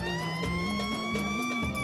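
An ambulance siren sounds in a Turkish comedy film scene, a steady electronic tone that steps up and down in pitch. It plays at moderate distance over a faint background rumble, with no speech.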